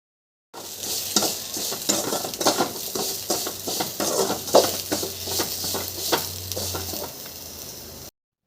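Dried red chilies and coconut roast in a pan for sesame chutney, stirred briskly with a utensil, making continuous close scraping and rattling over a soft sizzle, with no talking.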